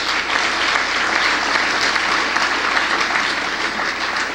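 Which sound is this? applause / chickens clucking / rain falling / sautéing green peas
applause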